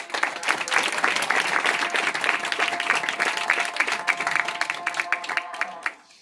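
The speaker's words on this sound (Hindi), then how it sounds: "जोरदार तालियां बजाएं।" Congregation applauding during a church sermon, loud sustained clapping with distinct individual hand strikes and some cheering voices, fading out abruptly at the end.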